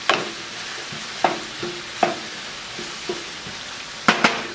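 Chicken cacciatore with pepper flakes sizzling in a hot pan: a continuous frying hiss with intermittent scrapes and light knocks of a utensil being stirred, close and steady.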